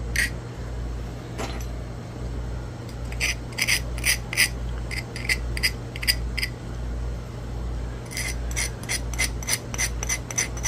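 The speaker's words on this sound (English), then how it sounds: "Need to grind the base." The base of a red glass Dalton point is ground during flintknapping, a close, dry scraping with short gritty strokes in uneven clusters over a low steady hum.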